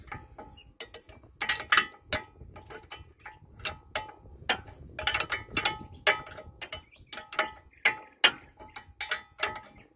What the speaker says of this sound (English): I'm gonna keep unscrewing this nut